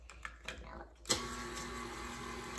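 A stand mixer switches on at low speed and settles into a steady, fairly quiet whir, preceded by faint handling noises and brief voices.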